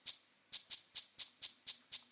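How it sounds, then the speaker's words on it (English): Shaker percussion instrument played alone, close and soft: eight crisp, hissing shakes in a steady rhythm, each a short burst of rattling grains with a quick decay. "This is the sound of the shaker."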